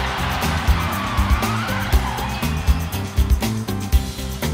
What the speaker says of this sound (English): the young monster trucks zigzag their way home